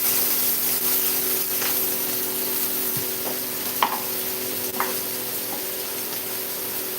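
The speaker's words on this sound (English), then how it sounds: "I'm going to add some fresh curry leaves here." Fresh curry leaves sizzle in a hot pan, a steady frying hiss running throughout with a few faint pops and crackles, moderately loud and close, no talking.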